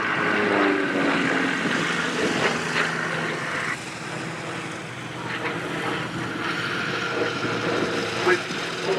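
Propeller drone of a P-47 Thunderbolt warbird flying at the Duxford Battle of Britain airshow, a steady broadband roar with wind buffeting the microphone, swelling and easing slightly as it passes at a distance.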